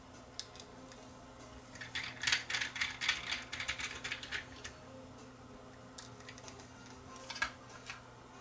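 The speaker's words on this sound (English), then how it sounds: "Just gotta get this in place. And then put the screws back in." Faint clicks and ratcheting taps come from screws being driven back into a Yamaha K520 cassette deck, bursts of small metallic ticks close by in an otherwise quiet room with a low steady hum.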